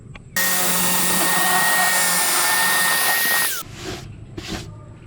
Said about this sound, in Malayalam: ഇനി ഒന്ന് ഹോൾ ഇട്ട് കൊടുക്കാം.